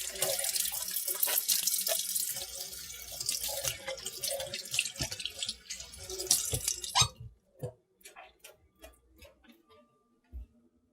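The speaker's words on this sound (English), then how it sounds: "The first step when baking, of course, is to wash your hands" Running tap water splashes into a sink as hands are washed before baking, a steady close gush that stops about two thirds through, leaving only a few faint drips and clicks.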